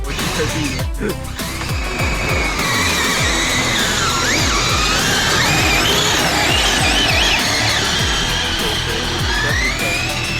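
Kyosho Blizzard 2.0 RC snow vehicle driving over snow, its electric motor whining steadily and close throughout, with crunching and rumbling from the tracks and a voice speaking briefly near the start.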